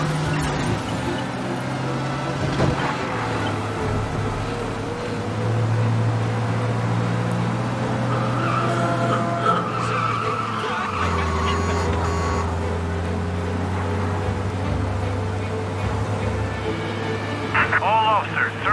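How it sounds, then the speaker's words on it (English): A car in Mafia: Definitive Edition races along at speed, its engine droning steadily and shifting pitch midway, with voices talking over it throughout. "We lose them by driving real fast and getting clear of them."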